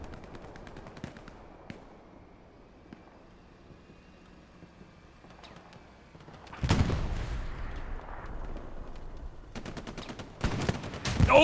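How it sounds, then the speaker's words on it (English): Multiple rockets firing in the World War II shooter Hell Let Loose, scattered distant gunshots at first, then a heavy burst of launches and blasts, dense and loud, sustained to the end. "Oh, multiple rockets."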